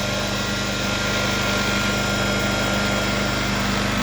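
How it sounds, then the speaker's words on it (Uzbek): A three-phase asynchronous electric motor, started with push-button start/stop controls, runs steadily with a constant close hum and faint whine throughout, with no voices. "Motorimiz aylanyapti."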